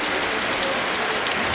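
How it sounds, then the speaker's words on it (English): Heavy rain pours down at the Chao Fah Variety night market in Phuket, a dense, steady hiss of drops drumming on surfaces, loud and close with no voices. "it's raining too hard."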